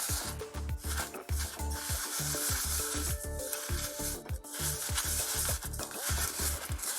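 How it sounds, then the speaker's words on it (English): Coarse flock leaves are stirred into paint, making a rhythmic, gritty scraping and squelching that repeats in quick strokes for several seconds, fairly close and with no talking. "just mix them into that paint"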